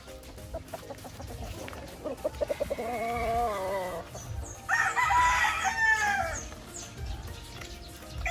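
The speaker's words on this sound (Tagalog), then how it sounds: "Dumiretso tayo rito para bisitahin yung manukan ni Sir Oliver." Roosters crow loudly at a poultry farm, one long crow followed by another, with chickens clucking around them and faint background voices.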